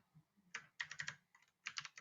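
Close computer keyboard keystrokes in quick clustered bursts of clicks, a few taps at a time with short pauses between, while copying and pasting in an Excel spreadsheet.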